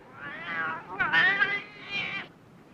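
A cat gives a run of drawn-out, wavering meows, loud and close, rising and falling over a couple of seconds.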